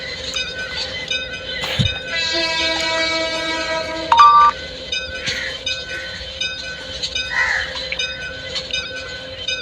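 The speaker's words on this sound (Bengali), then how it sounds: "ট্রেন গাড়িটি স্লো করার পর আস্তে আস্তে যাইতে থাকবো স্টেশনে ঢোকার জন্য।" A train in Bangladesh Train Simulator slows before entering a station, with steady rolling rail noise, a low thud, sustained electronic tones and a brief beep, fairly loud and without talk.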